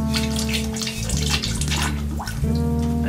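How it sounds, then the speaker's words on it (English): Liquid ceramic glaze is poured into a ceramic bottle-shaped pot and swirled around to coat the inside, a steady close sloshing and trickling with no talk. "For this bottle type form, you can swirl it around and make sure you coat it in the hole inside."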